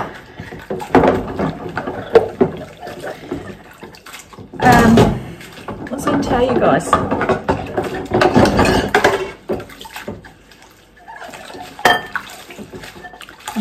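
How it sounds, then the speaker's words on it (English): Dishes are washed by hand in a home kitchen under a running tap. Water splashes in bursts, and plates and pans clatter now and then, while a person speaks briefly. "I'm just going to wash dishes with bare hands"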